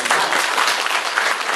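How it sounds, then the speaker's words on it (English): Dense, loud applause from a dinner audience honoring panda center staff at Bifengxia, many hands clapping together in a brief continuous burst. "they need a huge round of applause to the staff"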